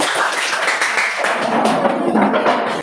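Students applauding in a classroom, a dense patter of many hands clapping at once, loud and close, holding steady for a few seconds before tapering off.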